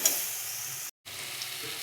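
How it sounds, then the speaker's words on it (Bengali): Mango with its stone sizzles and hisses in a hot pan while being stir-fried for a coconut sweet-and-sour dal. The steady frying crackle breaks off once for a moment, then resumes. "ভালো করে কষিয়ে নিচ্ছি একটু আমটাকে।"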